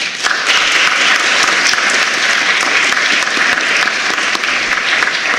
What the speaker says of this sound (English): give yourselves the biggest round of applause